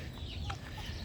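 A gamefowl hen, a brood hen of the bulik line, clucks softly in a short burst over steady farmyard background noise, with no talking.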